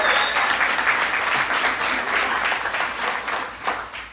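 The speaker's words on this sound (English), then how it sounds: "That deserves applause." An audience claps at a Latino community event at Casa Azafran in Tennessee, a dense, even burst of applause held for several seconds at moderate loudness, with no talk.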